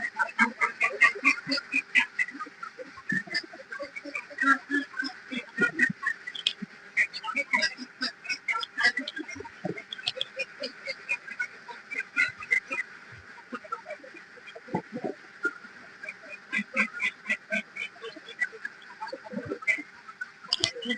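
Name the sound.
ducks quacking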